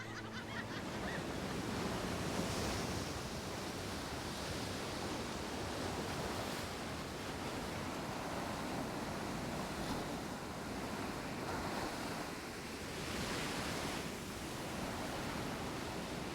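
Sea waves breaking on an unspoiled Danish shore, a steady, dense wash of surf with swells rising and falling every few seconds, mixed with wind rushing across the microphone.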